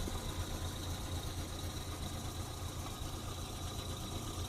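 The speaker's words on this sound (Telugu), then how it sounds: "ఇంజన్ బీటింగ్ కూడా చూడండి, చాలా సైలెంట్ కూడా." A petrol engine on a 2014 Maruti Omni 8-seater idling, a steady low throbbing hum with a faint even beat, quiet and unbroken.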